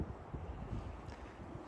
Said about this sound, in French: J'espère que vous m'entendez bien, parce qu'il y a quand même pas mal de vent.